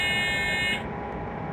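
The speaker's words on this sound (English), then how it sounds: "why are you beeping?" Warning beep in a train cab in Train Simulator 2014, an ICE 2 express: a loud, steady high-pitched tone sounds for about the first half, then cuts off, leaving the low rumble of the running train.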